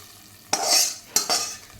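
A spoon stirs tempering into cooked rice and lentils for ghee pongal in a pot. Two scraping strokes follow each other closely, close and fairly loud, with no talk.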